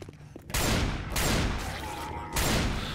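Magnum pistol fire in the co-op zombie shooter Left 4 Dead 2: three loud, booming shots land about a second apart, each followed by a short ringing decay, with no talk over them.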